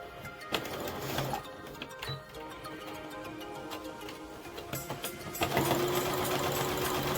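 A sewing machine tacks down a seam on a duck bill face mask, its needle running in a steady rapid ticking chatter that speeds up toward the end, close and alone.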